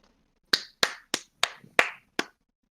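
Thin applause rings out in the video game Octopath Traveler II: six separate, crisp hand claps spaced unevenly over about two seconds, close and dry, with nothing around them.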